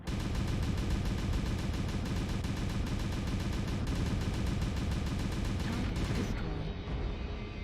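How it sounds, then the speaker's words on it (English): Rotary AC2 autocannons in MechWarrior Online fire in a continuous, rapid, dense stream of shots, loud and unbroken for several seconds before easing off near the end. "AC2s are the smallest, but they fire very quickly. So yeah, I got 3 basically minigun cannons."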